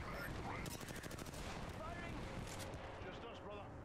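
Sustained automatic gunfire rattles loud and dense from Apex Legends in the middle of a duo firefight, with rapid volleys overlapping. Players talk over the shooting.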